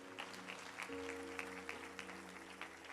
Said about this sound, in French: On peut acclamer pour la chorale.